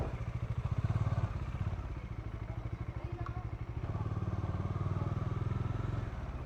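A new motorcycle rides along a road with a steady, pulsing engine drone and a rhythmic low throb, carrying some faint rattles and clatter beneath.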